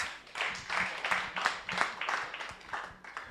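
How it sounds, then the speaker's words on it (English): A seated audience at a health professions education symposium claps in a steady round of applause, the clapping swelling and easing in waves over a few seconds, fairly close and clear with no talking. "Another round of applause."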